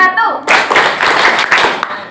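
A classroom of students claps hands together in rhythm during a microteaching lesson, a brief spoken cue followed by a dense, loud burst of many overlapping claps forming a few uneven beats.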